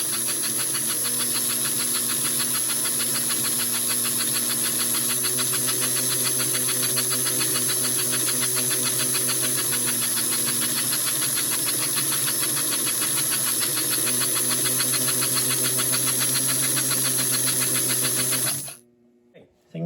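An American Flyer 312 model steam locomotive motor runs with its smoke unit on, giving a steady close whirring hum under a constant airy hiss that cuts off near the end.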